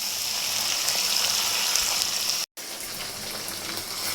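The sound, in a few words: frying masala with ginger garlic and cumin paste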